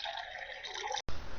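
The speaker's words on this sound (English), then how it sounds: "I have a glass and I have a water. If you can transfer the water in a glass," Water poured into a glass in a simple classroom science demonstration, giving a steady, fairly quiet rushing splash that runs for about a second, then breaks off briefly before a softer trickle continues.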